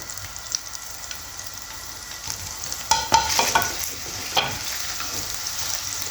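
Chopped onion sizzles in melted butter in a pan, a steady crackling hiss with louder bursts and spattering pops midway, no voices.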